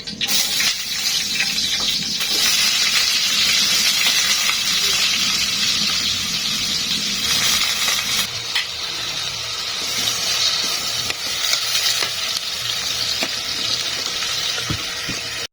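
Chopped onion and ginger fry in hot oil for a chicken liver and brain bhuna, giving a loud, continuous close sizzle and hiss with faint stirring scrapes throughout.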